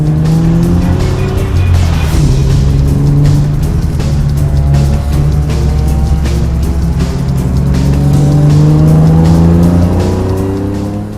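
A BMW race car in a cool early-morning track session in Las Vegas, engine roaring loud and close through shifting revs, with tire squeal as it corners, continuous and alone.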